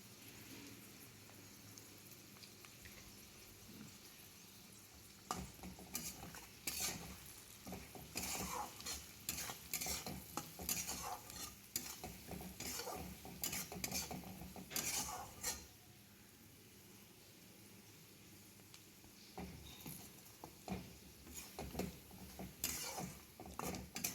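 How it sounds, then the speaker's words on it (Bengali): Spice paste of turmeric, coriander and cumin frying in a pan, a faint sizzle under repeated scraping stirs that come in bursts, quiet and close with some creaky utensil scrapes. "হলুদ, ধনে গুঁড়ো সামান্য, জিরে গুঁড়ো সামান্য দিয়ে ভালো করে মশলাটা আমি কষিয়ে নেব"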